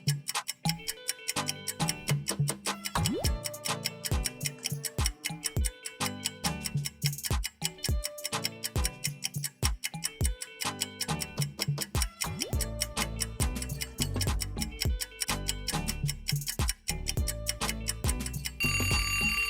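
A countdown timer ticks steadily and rapidly throughout a riddle puzzle, its sharp, regular clicks layered over a continuous musical backing, with no talking.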